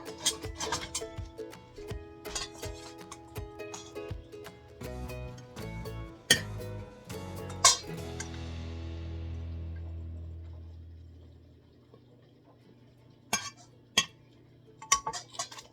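A spoon clinking and scraping against dishes while a meal is served, with a rapid run of metallic taps, a quiet lull with a low hum, then a few sharp clinks near the end.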